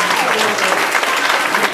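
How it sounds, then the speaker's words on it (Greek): A loud, dense burst of audience applause fills the room, continuous close clapping with a few voices underneath for a short stretch. "Λοιπόν, ένα χειροκρότημα με το"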